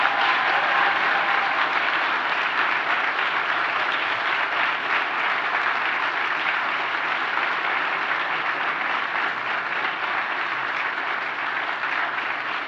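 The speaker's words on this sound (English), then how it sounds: "give the biggest round of applause to your personal team" Graduates and audience applaud at a university graduation ceremony, a long, steady wash of dense clapping that holds at an even level from start to finish with no talk over it.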